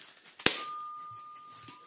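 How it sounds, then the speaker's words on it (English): Doorbell ringing indoors, a single sharp strike followed by a sustained chime that rings on and slowly fades, heard alone and fairly faint. "Doorbell."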